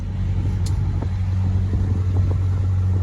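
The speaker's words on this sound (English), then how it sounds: "We're motoring and sailing." Steady low engine drone of a sailboat motoring under power, leaving Las Palmas, Gran Canaria, bound for Morocco, a continuous close rumble with a few faint knocks and no talk.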